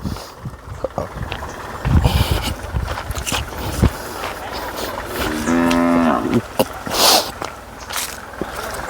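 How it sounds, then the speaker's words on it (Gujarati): A calf lets out one loud, drawn-out moo close by on a farm in Gujarat, with rustling and scraping sounds around it. "વાસળી ભાંભરી આપણે"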